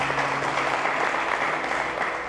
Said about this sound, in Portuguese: Dê um aplauso a Jesus, dê um aplauso a Jesus.